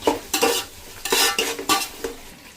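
A spoon stirs biryani in a metal pot, making several rhythmic scraping, shuffling strokes with faint sizzling underneath, close and fairly loud, no talking.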